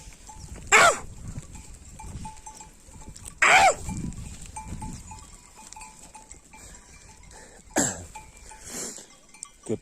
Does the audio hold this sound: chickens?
no